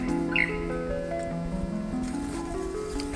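Birds sing in a lush green Tasmanian forest, with thin high chirps and sustained tonal whistles layered over a quiet, even background, moderately distant and with no voices.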